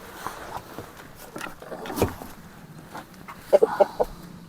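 A young rooster in Perşembe, Ordu, Turkey gives a few short, rough clucks and a brief broken crowing burst, moderately close amid quiet outdoor background.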